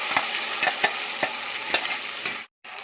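Tempering spices and dried red chillies sizzle in hot oil in a pan for a chutney, a steady bright frying hiss with a few soft stirring taps, close and alone, cut briefly near the end.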